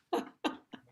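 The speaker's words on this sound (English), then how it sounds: "I need to cough." Three short coughs from a single person at a conference, the first two fuller and the last one weaker, heard quietly and on their own.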